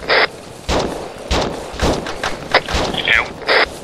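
Gunfire rings out from behind during Arma Zeus co-op play: loud, close bursts of sharp cracks and heavy thumps recur several times across a few seconds, some with a bright, hissing edge.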